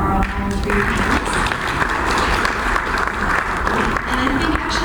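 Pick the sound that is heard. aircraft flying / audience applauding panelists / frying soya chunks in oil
audience applauding panelists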